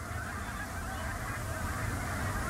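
A flock of geese honks steadily at Izembek National Wildlife Refuge, many overlapping calls blending into a continuous, moderately distant chorus with no one speaking.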